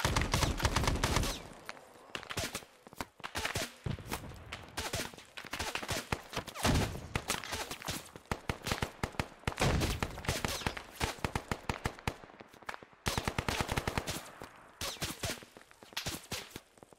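Sustained M60 machine gun fire in the Arma 3 video game, long rattling bursts and rapid volleys chained almost continuously with only brief gaps, loud and close, with scattered footstep-like noises between.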